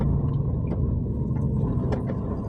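A car pulls out of a parking space on a street in Luxembourg, a low steady engine rumble heard from a short distance, moderately quiet and without talk.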